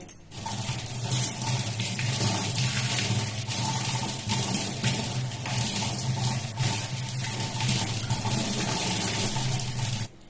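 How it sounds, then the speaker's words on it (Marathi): Red-stemmed taro leaves are rinsed under running clean water, a loud, steady tap stream splashing near the microphone for about ten seconds before it stops. "हे अळू आपण स्वच्छ पाण्याने धुवून घेऊया"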